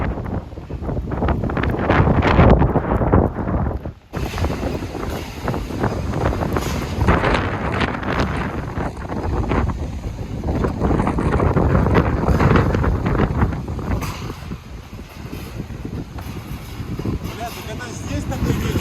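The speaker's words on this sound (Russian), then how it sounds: "Здесь такой ветер, а что там?" Strong wind buffets a microphone aboard a boat, a constant loud roaring rumble with gusts and flapping, and people speak under the noise.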